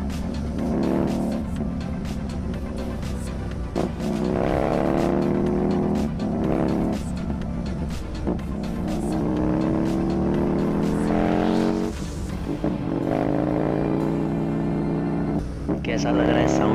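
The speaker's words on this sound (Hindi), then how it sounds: "बाइक की जो साउंड है वो कैसी लग रही है" Husqvarna Nuda 900R motorcycle ridden on an open road, its engine droning loud and close with rising and falling revs and several gear changes, while a rider talks over it.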